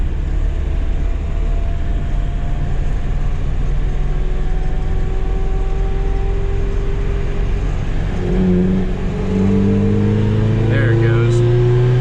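Nissan 720 pickup truck engine running rich and a little cold, a loud steady engine drone with rising revs near the end, while someone talks briefly over it.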